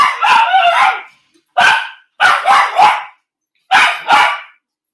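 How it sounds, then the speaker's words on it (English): A dog barks in several sharp, loud bursts close by, in clusters separated by brief silences. "Now my dogs are going off."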